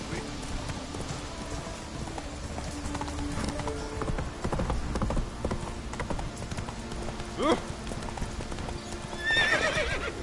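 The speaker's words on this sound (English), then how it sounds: "Come on, Roach" A horse in the video game Witcher 3 trots with close, rhythmic hoofbeats, then gives a couple of loud whinnies near the end, with light rain-like ambience behind.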